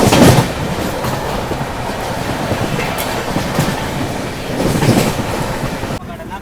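AP Express, a sleeper and third AC passenger train from Visakhapatnam to New Delhi, rumbles steadily along the rails, with a rhythmic clickety-clack of wheels heard close up from onboard.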